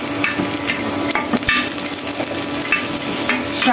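Raw meat is kneaded by hand with salt and spices in a bowl, giving close, wet squelching and slapping sounds with scattered sharp clicks and knocks.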